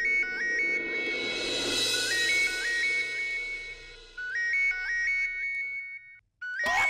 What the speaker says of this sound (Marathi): ही रिंग कुठे वाजते?